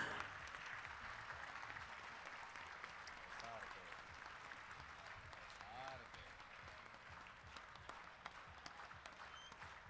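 A dayro audience in Surat claps for a guest coming on stage, a dense, fairly distant wash of applause running throughout while a voice speaks over it.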